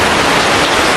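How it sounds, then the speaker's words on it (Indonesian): Heavy rain pours down in a dense, loud, continuous hiss that fills the whole moment, with no other sound standing out. "Suaranya agak berisik soalnya lagi hujan gede."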